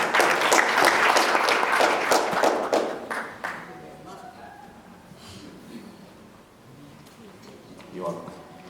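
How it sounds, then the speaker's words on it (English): Conference audience at a local government event bursts into loud clapping that fades after a few seconds, leaving quiet room murmur and a faint voice near the end. "Round of applause."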